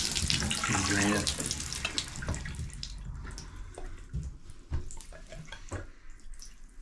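Water running and draining through household plumbing in a rental after the supply is shut off, a steady rushing gurgle loudest at first that tapers into lighter trickles and drips.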